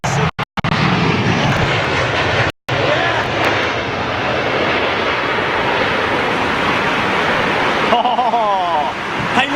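Biman Bangladesh Boeing 777 airliner departing London Heathrow in stormy weather, its broad engine roar steady and loud with wind noise, briefly cut by two short dropouts near the start.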